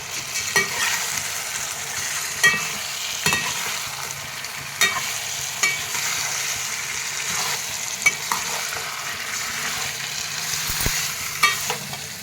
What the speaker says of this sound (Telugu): ఉల్లిపాయ మగ్గాక మనం ఇలా కలుపుకున్న చికెన్ని వేసేసి తిప్పేయండి చికెన్ని మొత్తం ఇలా కలిపేయండి